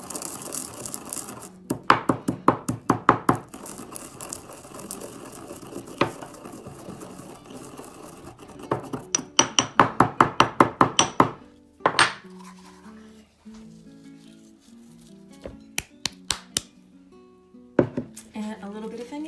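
Coriander seeds crushed by hand in rapid rhythmic bursts of sharp, close pounding strikes, then sparser knocks, with a person talking in between.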